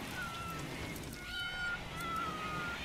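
Cats in the video game Rimworld give several overlapping drawn-out meows in quick succession, clear above a low steady ambient background with no talking.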